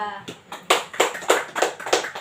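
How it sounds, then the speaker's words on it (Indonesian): A classroom of students claps for a presenting group, several distinct bursts of hand clapping in an uneven rhythm, close and fairly loud, with a voice briefly heard at the start. "Tepuk tangan untuk kelompok 2"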